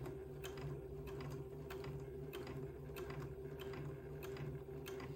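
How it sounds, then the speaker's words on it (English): A sewing machine stitches a tiny seam along the shoulder of a diaper shirt. Its needle ticks and motor hum keep an even, quick mechanical rhythm, soft and close, with no talk. "just simply sew a tiny little seam along the top of the shoulder"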